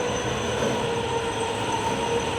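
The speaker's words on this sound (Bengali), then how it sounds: "বাচ্চাদের ট্রেন," A children's amusement park ride train runs steadily at a park, a continuous rumbling rail sound with a faint squealing tone, moderately close, with no talking.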